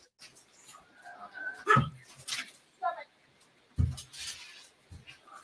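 Dogs bark and whimper at each other indoors in short scattered bursts of yips and whines, moderately near, with a voice talking between them.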